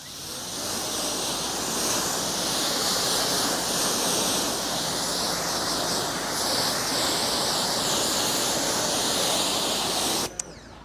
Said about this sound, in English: And then you simply just rinse it off.